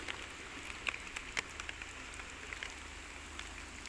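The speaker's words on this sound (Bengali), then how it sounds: "খুব জোরে বৃষ্টি হচ্ছে" Steady rain pours down in a dense, even hiss, with scattered louder drops striking a surface nearby throughout.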